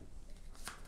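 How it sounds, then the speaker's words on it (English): Quest cards from a board game being shuffled by hand, a brief soft riffle of card stock at close range, largely hidden under background noise. "So these are the actual quest cards. We will be shuffling these"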